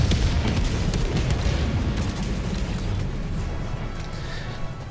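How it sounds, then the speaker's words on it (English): Rocket pod strike slamming into an Automaton fabricator in Helldivers 2, a loud rumbling blast that rolls on as a dense, sustained roar of debris and low booms for several seconds. "For this last one, I'm just gonna rocket pod it"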